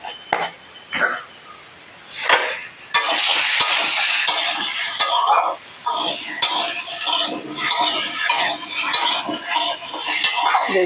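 Yam and fish in a lightly oiled pan frying with a steady broadband sizzle, broken by scraping and stirring clatter and sharp utensil knocks; a voice talks at moments over the cooking.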